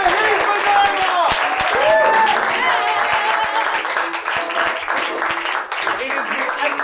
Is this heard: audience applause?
yes